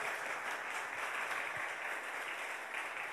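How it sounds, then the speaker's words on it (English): Faint, steady audience applause at a community work-in-progress presentation in Cruz Bay, even and unbroken for the short stretch. "Let's give them a round of applause."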